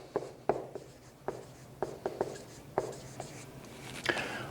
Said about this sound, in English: First step, write down the elements.